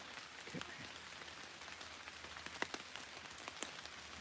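Steady rain falling on leaves in an Alaskan forest, a dense continuous patter with a few sharper drips standing out near the listener.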